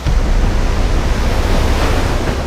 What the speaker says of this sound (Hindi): अफ्रीका के दक्षिण पूर्वी तट पर समंदर की लहरें ऊबड़ खाबड़ चट्टानी किनारों से टकराती हैं